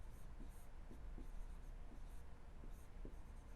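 Chalk or marker writing on a board during an engineering lecture on soil compressibility and consolidation, a series of short faint scratchy strokes in an uneven rhythm against a quiet room.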